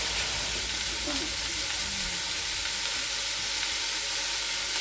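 Beef mince browns in a hot pan while being stirred, a steady, loud sizzle that never lets up, with faint scraping mixed into the hiss.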